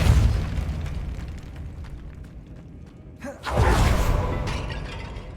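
A Depulso force spell blasts off in the Hogwarts Legacy video game, a sudden loud boom with a bright crackling burst that rings out and slowly fades over a rumbling game ambience.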